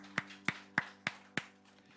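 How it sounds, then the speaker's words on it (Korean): Congregation clapping in praise at the close of a church worship service: five sharp, evenly spaced claps, faint and alone. "우리 주님께 박수로 경배하십시다"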